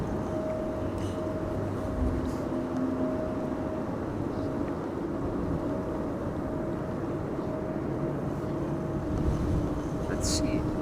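A Boeing 737-800 airliner arriving at Amsterdam Schiphol in high winds, a steady distant engine roar with a faint tonal whine, buffeted by wind noise.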